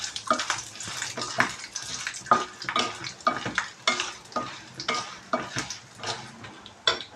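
Dried red chillies fry in a pan for coconut chilli powder, with repeated scraping and stirring strokes over a soft crackle, moderately close and steady, no voices.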